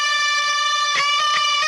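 A sustained electric guitar note shimmers with a wavering, doubled chorus effect, then a few new notes are picked.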